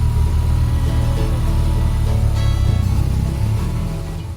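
A motorcycle engine runs steadily and close by, a continuous low rumble holding an even pitch throughout and easing off slightly in volume toward the end, with no voices.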